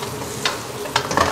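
Green beans sizzling and frying in a pan with oil, a steady soft crackle broken by a few sharper stirring scrapes, close and fairly quiet.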